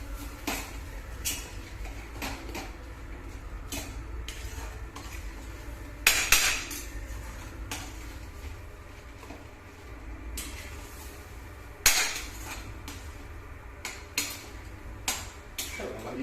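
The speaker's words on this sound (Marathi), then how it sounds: "पुन्हा तेल सुटेपर्यंत चांगली परतून घे हलवत राहायची" Pav bhaji vegetables being sautéed in oil with a spoon: repeated clinks and scrapes of metal against the pan, a few sharper knocks, over a low steady background.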